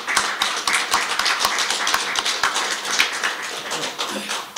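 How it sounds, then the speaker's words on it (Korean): An audience at a North Korean human rights event claps to welcome a former North Korean diplomat, giving dense, steady applause of many hands throughout without pausing. "박수로 안내해 주십시오."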